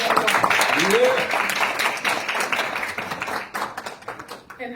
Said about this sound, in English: Give a round of applause for Mr. Bill Walsh.